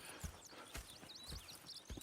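Horse hooves in the video game Red Dead Redemption 2 clop at a slow walking pace, a few distinct steps over a faint background with bird chirps.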